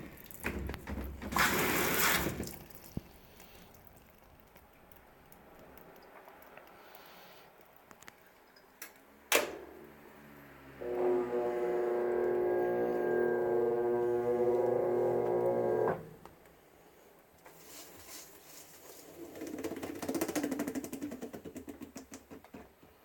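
A Maytag washing machine starting a casuals cycle with cool wash and warm rinse: a few clicks and a knock, then a steady mechanical hum with a faint tonal whine lasting several seconds before quieting, with rustling afterward.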